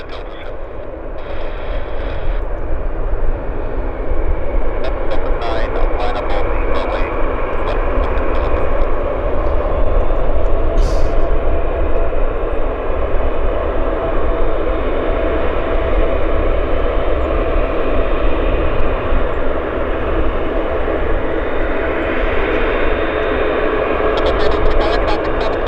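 Air Canada 548, an airliner departing Vancouver airport for Newark, makes a steady, loud, continuous jet roar that holds at full strength throughout without a break.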